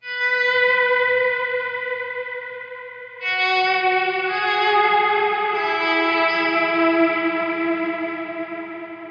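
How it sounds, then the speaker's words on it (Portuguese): Guitar played through the spring reverb setting of a Cuvave Cube Baby mini amp: sustained distorted chords ringing out with a wavering, shimmering reverb tail, then a second chord swelling in and holding at a steady level to the end. "Vamos ver se a gente consegue ouvir a modulação desse reverb de mola"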